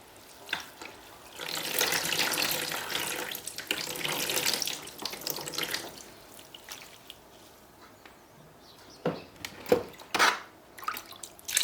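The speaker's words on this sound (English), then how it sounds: "so here I just add a bit of water to make up to the level" Water runs from a tap into a natural vegetable dye pot holding wool, a steady splashing pour for several seconds, then stopping and giving way to a few separate drips and splashes.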